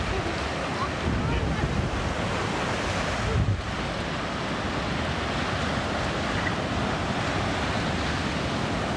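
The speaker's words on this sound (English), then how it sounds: "The waves are coming in." Ocean surf rolls in continuously at Belmont beach in San Diego, California, a broad steady wash of waves with heavy wind buffeting the microphone.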